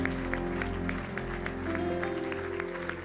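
Church congregation applauding during a service, steady sustained clapping throughout with sustained tones of instruments or held notes underneath.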